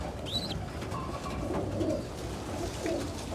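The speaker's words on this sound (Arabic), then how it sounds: "ادي الحمام زغاليل برضو همت هنا دول لسه زغاليل" Pigeons and young squabs coo in a bird-keeping loft, soft low cooing phrases repeating close by, with a higher chirp early on and no talking.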